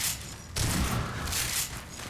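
Shotgun blasts from a SPAS-12 in Half-Life 2 with MMod in Ravenholm, heard as a sharp burst followed by a couple of rolling, fairly distant reports and echoing combat noise.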